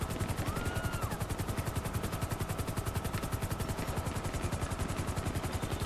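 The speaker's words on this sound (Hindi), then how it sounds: "हम चारों तरफ गोलियों की आवाज़ सुन पा रहे" Rapid, steady gunfire rattling from all around a rooftop in GTA 5, a continuous pulsing barrage under the chopping drone of a patrol helicopter, fairly faint with no talk.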